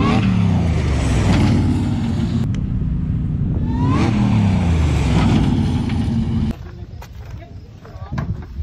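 A quad ATV engine rumbles loud and close, its pitch climbing and falling through revs, then drops to a quieter idle near the end, with muffled voices faintly in the background.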